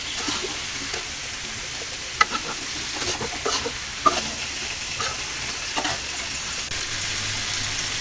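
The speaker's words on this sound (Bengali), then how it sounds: "দিয়ে দিব মিষ্টি কুমড়াগুলো ভেজে নেব" Sweet pumpkin pieces frying in hot oil in a pan give a steady, close sizzle, broken by a few sharp stirring clicks and scrapes, with no voices.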